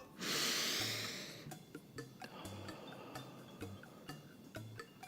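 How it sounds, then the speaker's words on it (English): A single deep breath drawn in loudly and close, followed by quiet rhythmic ticking and soft low thumps, with no talk. "Take a deep breath."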